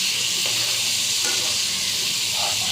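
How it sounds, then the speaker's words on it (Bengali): Spice masala for a bata fish curry sizzles steadily in a pan over a low gas flame, a continuous close hiss with occasional soft scrapes of stirring. "এটাকে ভালো করে নেড়ে চেড়ে দিতে হবে, নয়তো মশলাটা তলায় লেগে যাবে।"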